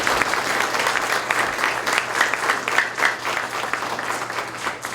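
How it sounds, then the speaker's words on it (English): An audience applauds at a domestic violence awareness month event, steady dense clapping from a crowd filling the room, sustained and fairly loud with no voices on top. "So, round of applause."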